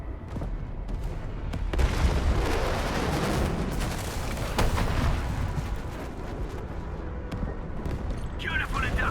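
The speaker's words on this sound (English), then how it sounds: "The UWST will fire at where you've marked." UWST artillery strike in the video game Arknights Endfield, with heavy booming impacts and rumbling blasts rolling on continuously at close range, loud throughout, with a voice talking over parts of it.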